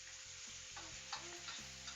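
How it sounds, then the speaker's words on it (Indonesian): Spices stir-fried in hot oil for a sardine stir-fry, a steady close sizzle with rhythmic scraping strokes of a spatula against the pan, no voices. "Goreng sampai harum ya teman-teman."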